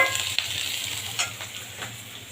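Onion, garlic and slit green chili frying with black cumin seeds for dal, giving a steady close sizzle with a few scraping stirs, with no talk.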